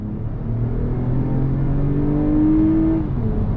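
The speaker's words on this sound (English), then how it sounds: "Naturally aspirated V6 power, low down torque, which is nice compared to the Accord" A 2021 Toyota Avalon TRD's naturally aspirated V6 pulls under throttle, a steady engine drone climbing in pitch as it accelerates, heard close from inside the cabin with no talking.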